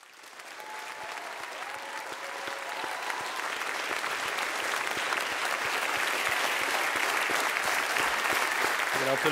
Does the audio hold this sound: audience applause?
yes